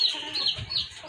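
Hens in a backyard egg-laying flock cluck close by in a brief, continuous burst, with soft throaty calls and no talking.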